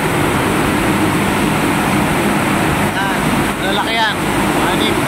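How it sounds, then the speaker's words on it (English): Six large fans on an ammonia refrigeration condenser unit roar in a loud, constant broadband rush like strong wind, with brief faint voices breaking through near the end. "Ito yung condenser unit natin dito na may 6 na malalaking fan."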